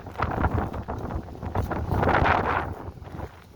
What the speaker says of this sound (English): I don't know if you can hear anything with this wind